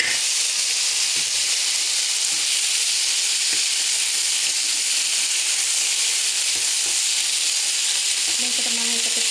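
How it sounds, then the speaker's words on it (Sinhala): Green peas sizzle and fry in a pan of tempered salt, a loud, steady, close hiss with faint crackles and a few light clinks of stirring throughout. "දැන් මම මේකට දානවා ග්‍රීන් පීස් ටික."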